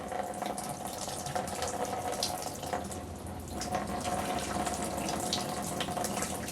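Fluid draining out of an engine drain makes a steady, close splashing pour like running tap water, continuous for the whole stretch with no talk.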